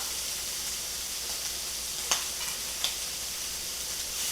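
Harissa shrimp sizzling in a pan, a steady quiet frying hiss broken by two small clinks of a utensil, with no voices.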